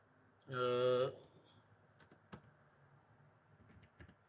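Names are typed on a computer keyboard while working in CorelDRAW, giving sparse, faint individual key clicks spread out over a quiet background. A short voiced tone is heard just before the typing.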